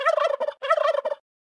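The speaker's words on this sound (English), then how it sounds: "Turkey" A turkey gobbles in two rapid, rattling bursts separated by a short gap, loud and near, with nothing else audible.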